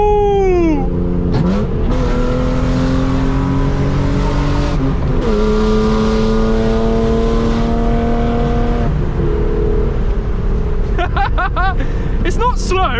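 A loud BMW E36 engine revs hard again and again, climbing to the rev limiter and dropping back between pulls, close and aggressive, with brief excited voices near the end.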